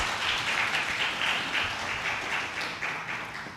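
Applause from a workshop audience runs steadily throughout, a dense wash of many hands clapping at moderate level that stays even, then eases slightly near the end, with no speech over it.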